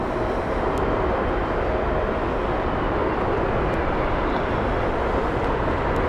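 An Aer Lingus airliner arriving from Cork touches down at Heathrow, a steady broad jet roar holding at a constant, fairly loud level throughout with no voices.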